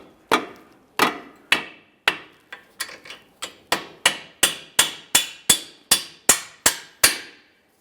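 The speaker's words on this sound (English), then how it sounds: "I'm using a rubber mallet." A rubber mallet taps a rear suspension control arm into position on a 2005-2010 Chrysler 300 during a coil spring replacement, about fifteen sharp, evenly spaced knocks that grow steadier and slightly louder toward the end.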